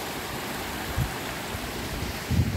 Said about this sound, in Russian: Ручьи соединяются.